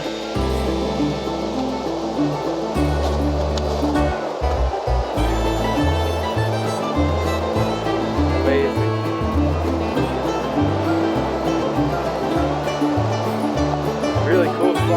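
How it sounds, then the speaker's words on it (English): Water rushes loudly and constantly over a waterfall at an old sawmill site in New England, with someone talking over the roar. "The water just gets raging through here."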